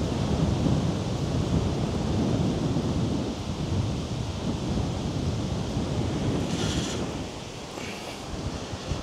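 Strong, continuous wind roars and buffets outdoors on the island of Fehmarn, a loud rushing noise throughout with no speech.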